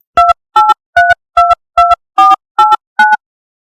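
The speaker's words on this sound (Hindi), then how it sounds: "तो DTMF मेनली आपको फ़ोन डायल जैसे करते थे हम अपने पास्ट में कुछ समय पहले तक" Eight software-generated DTMF telephone dialing tones, each a short loud two-pitch beep separated by brief silences, evenly spaced like keypad presses, then quiet.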